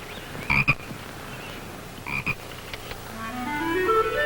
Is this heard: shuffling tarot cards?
no